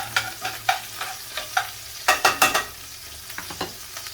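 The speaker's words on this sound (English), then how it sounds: "I'm going to put peppers to brown." Peppers brown in a hot pan for a Mardi Gras pasta, sizzling steadily under a string of sharp stirring clatters and scrapes, close and fairly loud, with no talking.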